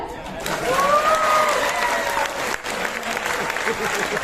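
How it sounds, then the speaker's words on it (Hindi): Dense clapping from a seated audience at a women's business training session, a steady burst of applause that dips briefly midway, with a voice faintly audible underneath. "ताली बजा लो"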